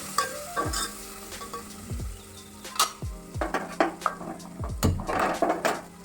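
Peanuts and chopped red tomato sautéing in hot oil with chilli powder and turmeric, a steady sizzle broken by repeated scraping strokes of a spoon against the pan, close and fairly loud with no talking.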